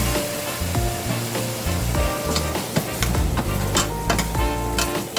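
Corn kernels frying in butter, margarine and basil on a barbecue, giving a loud, steady close-up sizzle with crackling pops and stirring scrapes throughout.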